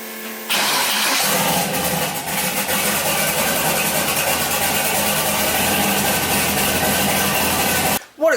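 A turbo LS engine swapped into a BMW E46 cranks and fires, then holds a loud, rough, steady idle close by, cutting off abruptly near the end.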